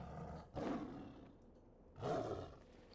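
A young big-cat cub mount in a video game lets out two short, soft roars about a second and a half apart, close and fairly quiet with no talk over them.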